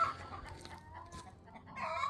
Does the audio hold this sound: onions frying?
no